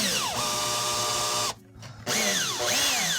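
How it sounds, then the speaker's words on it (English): A power drill boring through drywall for anchors: a loud, close whine that ramps up, runs steady, cuts out briefly, then revs again with rising and falling pitch sweeps. "Use a drill the appropriate size."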